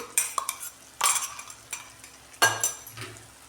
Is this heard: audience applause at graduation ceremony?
no